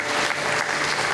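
Loud, close audience applause at a benefit concert in Chittenden, Vermont, a continuous dense roar of many hands clapping for the whole stretch.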